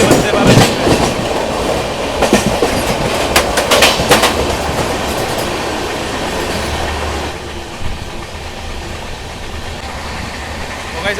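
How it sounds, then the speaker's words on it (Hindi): A Vande Bharat Express, number 22425 from Ayodhya to Anand Vihar, passes on rails with a loud, steady rumble and rhythmic wheel clatter that eases slightly toward the end, while a voice is heard in the background. "अभी आ रही है 22425 अयोध्या गेट आनंद विहार वंदे भारत एक्सप्रेस।"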